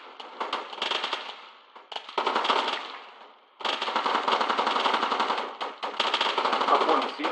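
Rapid automatic gunfire in a military video game, with dense bursts of loud shots in long runs and only a brief pause between them.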